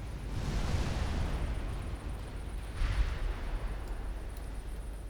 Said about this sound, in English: There you go, one torpedo hit on a battleship.